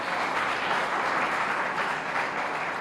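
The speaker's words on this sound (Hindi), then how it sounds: "बहुत आदर और सम्मान के साथ तालियां वालियां बजा के एक बार" A crowd at a Hindi kavi sammelan poetry gathering claps for poet Pramod Ramavat in a dense, even burst of applause that stays loud and continuous throughout.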